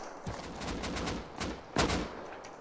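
AK rifle gunfire in the video game Rust, rapid bursts of automatic shots at moderate distance, with a sharper, louder report near the end and no talking.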